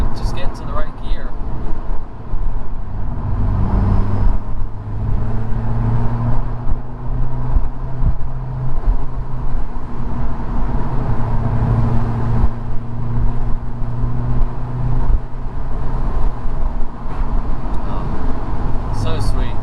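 A 2000 Honda S2000 engine hums steadily from inside the car while driving, with a low tonal drone that rises and eases as gears change, and a person talking over it.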